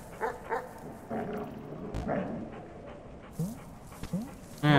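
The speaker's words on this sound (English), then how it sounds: "Hello again, dog." A dog in the game Animal Well gives short yips and barks mixed with panting and whimpering, a handful of quick bursts spread across the moment, close and moderately loud with no talking.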